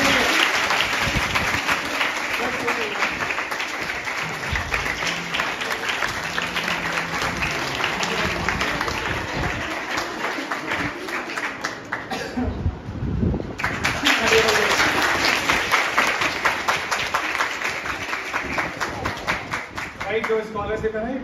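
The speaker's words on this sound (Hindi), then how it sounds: "बच्चों के लिए तालियां जोर से दीजिए।" An audience applauds students at a coaching institute event for top-scoring 12th-grade girls, with loud sustained clapping from a large crowd that dips briefly midway and then swells again, while voices speak over it.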